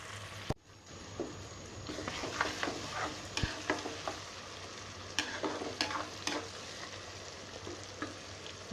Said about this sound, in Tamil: இன்னும் 2 நிமிஷம் வதங்கட்டும். தக்காளி நல்லா மசிஞ்சு வந்துடும்.